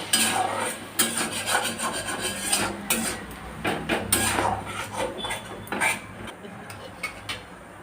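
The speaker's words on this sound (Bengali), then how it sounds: "সামান্য জল দিয়ে মশলাটা ভালো করে কষিয়ে নেব" A spoon scrapes and stirs spice paste with chili powder and a splash of water in a pan for ghugni, giving repeated loud rasping strokes and clinks against the metal, close and uneven in rhythm with no voices.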